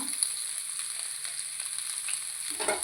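Cut onion fries steadily in oil in a pan for a gravy, a constant, faint hiss of sizzling with a brief clatter at the end and no speech.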